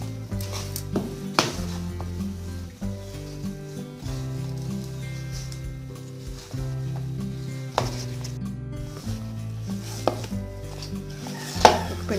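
Doughnut dough is mixed with milk in a bowl by hand, giving soft, close, irregular knocking and scraping against the bowl, with a few sharper clinks.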